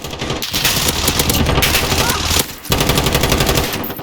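A Fennec Vector submachine gun fires in a video game with loud, rapid, continuous automatic bursts, close and dense, broken by one brief pause before the shooting resumes.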